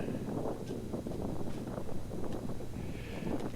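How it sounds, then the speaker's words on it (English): Strong wind gusting in a backyard during a reclaimed-wood shed build, a steady low rumbling roar of buffeting against the microphone that swells and eases throughout. "See all the wind blowing up"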